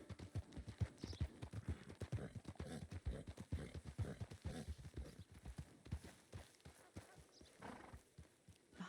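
A short-legged horse ridden in Red Dead Redemption 2 on a RedM server clip-clops in a steady, bouncy rhythm of close hoofbeats, with a brief whinny among the quick strides.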